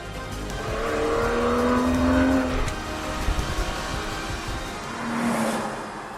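Porsche 718 Boxster GTS 4.0 flat-six with a central exhaust pipe, revving up and then easing off before a second rise, loud and close with a throaty, swelling exhaust note and no talking.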